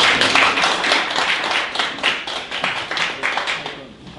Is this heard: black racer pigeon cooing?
no